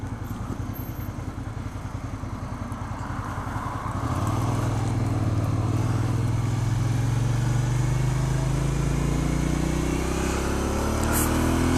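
A Suzuki SV650 motorcycle engine idles with a rough, rapid pulse, then revs up and accelerates in first gear, its drone rising steadily in pitch and growing louder, heard close with no talking.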